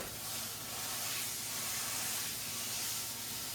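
Meat searing in a very hot pan for a keto loaded queso, a steady loud broadband hiss and sizzle running unbroken throughout.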